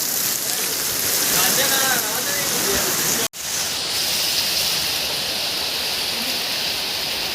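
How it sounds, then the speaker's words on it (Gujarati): Heavy rain pours down on a farm field in a steady, dense hiss that fills the whole span, broken by one abrupt instant of silence partway through; voices seem to be faintly present under the downpour. "ફૂલ વરસાદ પડ્યો"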